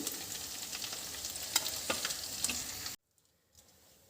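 Paneer and eggs sizzle steadily in hot oil for a Bengali vegetarian curry, a dense close crackle with small pops that cuts off abruptly near the end, leaving near silence.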